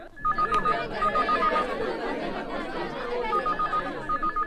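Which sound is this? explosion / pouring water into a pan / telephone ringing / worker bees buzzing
telephone ringing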